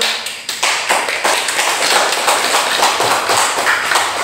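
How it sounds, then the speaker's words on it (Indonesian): Classroom applause for a student group, a crowd of children clapping quickly and loudly, sharp claps layered into a steady patter for about four seconds. "Terima kasih kelompok, tepuk tangan."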